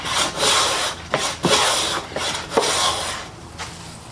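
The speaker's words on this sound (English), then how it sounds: "Taking lovely shavings, wispy, thin." A Stanley No. 4 or MF 9 hand plane fitted with a 55-degree high-angle frog takes thin, wispy shavings from quarter-sawn sycamore, giving repeated close, loud scraping strokes with short pauses between passes.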